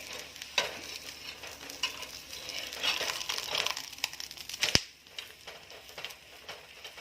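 Thalipeeth flatbread sizzles softly in ghee on a pan, a quiet continuous crackle with scattered light taps. One sharp click comes as it is turned over.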